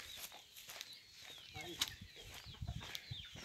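Farm chickens cluck and call in short bursts amid outdoor rustling and a few footsteps, fairly faint, with people speaking nearby.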